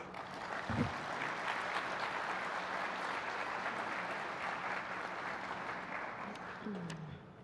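An audience at a Pearl Harbor commemorative ceremony claps steadily as a speaker is welcomed to the stage. Even, dense applause fills the room at a consistent level and starts to fade near the end.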